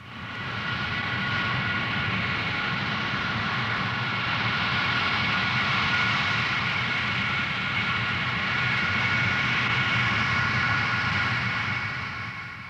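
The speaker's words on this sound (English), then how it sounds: "Even with engines running and Concorde beginning to roll" Concorde prototype jet engines running steadily at high power as the aircraft begins its roll, a loud continuous roar with broad hiss and low rumble throughout, no voices.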